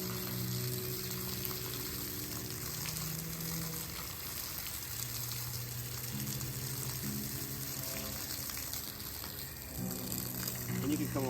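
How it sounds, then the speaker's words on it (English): Water gushes steadily from a hose into a bucket, a continuous rushing splash nearby, with a low humming tone running underneath. "here we're filling up this bucket"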